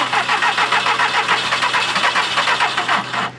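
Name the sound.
car engine starting after a jump boost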